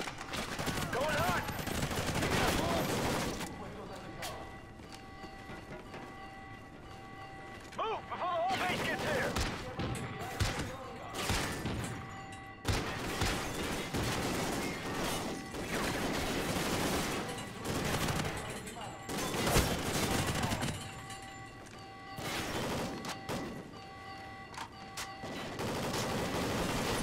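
Rapid bursts of gunfire in Call of Duty: Ghosts crackle almost continuously, with brief lulls between volleys, while a voice talks over parts of it.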